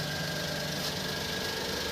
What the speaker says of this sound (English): See, the engine has started, and I have started the engine.